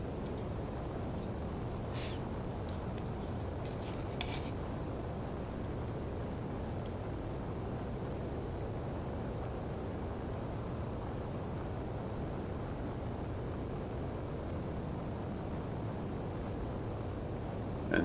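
A small airplane in flight descending into a valley toward Benchmark Airstrip, heard from inside the cabin as a steady, unbroken engine drone and wind roar throughout, with a couple of faint clicks early on.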